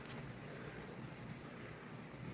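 Light rain falls steadily outside a garage, a continuous soft broadband hiss of drops with no pauses, alone and fairly faint throughout.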